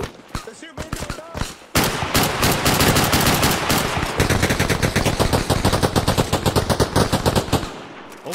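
Loud, close automatic gunfire in the ARMA video game, Metro 2035 mod. A few scattered shots come first, then sustained rapid bursts keep hammering for several seconds before tapering off.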